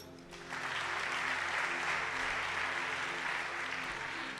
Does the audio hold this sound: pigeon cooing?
no